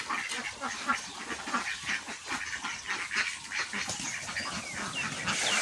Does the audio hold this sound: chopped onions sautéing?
no